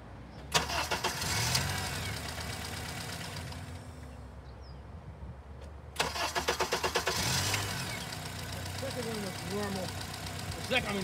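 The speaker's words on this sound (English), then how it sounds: "I want to look at cranking the vehicle without a crank signal" A Honda car engine cranks without a crank sensor signal, the starter chugging in rapid rhythmic bursts in two separate attempts, up close with a steady background hum.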